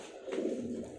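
Bandangan dove cooing in a low, steady murmur that fills the whole moment, close and moderately loud, with no other voices.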